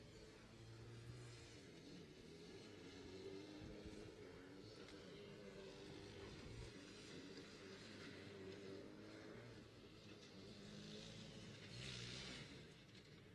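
Formula SAE race car at an acceleration test, its engine droning steadily as it accelerates down the straight, heard from a distance beneath continuous crowd and wind noise.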